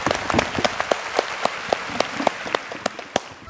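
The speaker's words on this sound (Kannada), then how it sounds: "ಒಂದು ಚಪ್ಪಾಳೆ ಬರಲಿ ಹೋದೆ" A small studio audience at a televised women's game show applauds the winning team, with steady, dense clapping throughout and a few sharp, distinct claps standing out near the front, at moderate loudness and with no talking over it.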